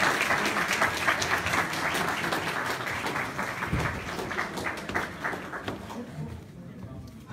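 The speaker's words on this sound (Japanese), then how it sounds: "拍手をお願いいたします。" Audience applauding the participants of a Japanese speech contest, a steady dense patter of many hands clapping for several seconds that tapers off toward the end, with some voices mixed in.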